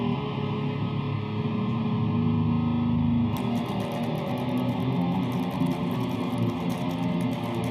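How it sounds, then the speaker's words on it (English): An electric guitar riff played with heavy distortion, a sustained buzzing, crunchy tone that stays loud and continuous throughout. "Now, if I play that riff with distortion,"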